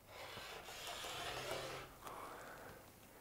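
Quilt fabric is cut along an edge where brown and blue pieces meet, a soft continuous rasping scrape that runs close and faint for a few seconds.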